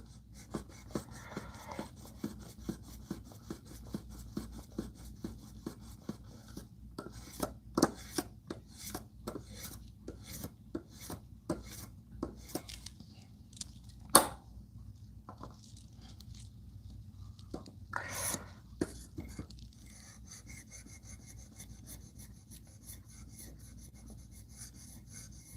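A knife is drawn across a 1500 grit sharpening stone in a series of sharp, rasping strokes of uneven rhythm, close and fairly quiet, with a steady low hum in the background.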